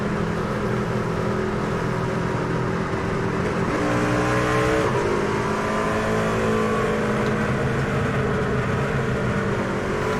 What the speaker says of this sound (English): Love the sound of these trucks.